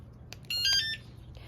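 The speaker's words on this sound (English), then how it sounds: "if somebody comes to try to open it, it beeps at them" Homemade alarm taped to the lid of a Can-Am Ryker motorcycle's front trunk gives a single short burst of high electronic beeping, close and fairly faint, over a quiet background.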